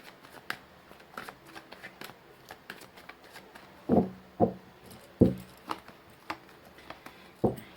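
Tarot cards being shuffled by hand: a run of crisp riffling bursts and soft slaps, with several louder thumps as the deck is tapped or squared, all close and without talk.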